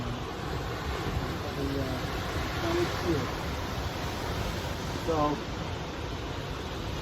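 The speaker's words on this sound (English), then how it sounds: "let's just let the waves ride for a few minutes" Ocean waves washing ashore at Point Fermin Park, a soft continuous surf wash mixed with wind noise, with people talking briefly over it.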